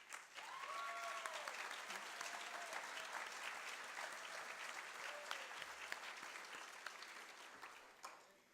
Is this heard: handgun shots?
no